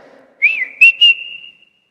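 A person whistles a rising note, then two quick chirps, ending on a long steady tone that fades out. Nothing else is audible.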